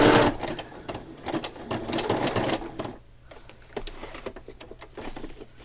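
A sewing machine stitches through a handmade pocket journal in quick mechanical bursts, running loud and close at first, then pausing and resuming in shorter runs.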